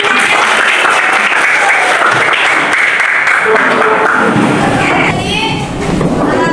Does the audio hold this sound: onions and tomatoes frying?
no